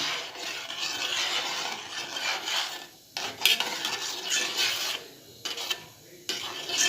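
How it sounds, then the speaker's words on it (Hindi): A spoon or spatula stirs turmeric into a mixture in a pan with continuous scraping, rasping strokes, broken by a few short pauses and sharp clinks against the pan. "और हल्दी डालूँगी और ऐसे इसे हिलाते ही रहूँगी"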